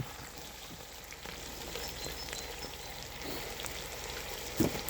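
Small onions frying in a pot of bœuf bourguignon give a steady, close sizzle with soft crackles, fairly quiet and continuous, with one brief knock near the end.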